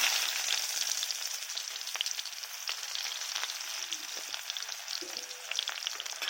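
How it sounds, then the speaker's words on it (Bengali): Chopped onion fries in oil left in the pan after frying fish, producing a steady, crackling sizzle at moderate level with faint stirring scrapes and no talking. "এইবারে ওই তেলেই আমি প্রথমে পেঁয়াজ কুচি দুটো দিয়ে দেব"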